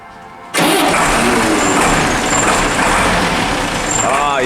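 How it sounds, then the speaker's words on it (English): A 1991 Mercedes Unimog truck engine bursting into a loud, steady close-up roar after a brief quiet start, with a hiss of air near the end. "we're just gonna listen to the sound of this bad boy,"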